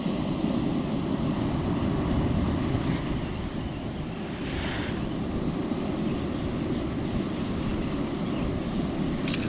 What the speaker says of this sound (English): when the set waves come through, they still smash up to the top here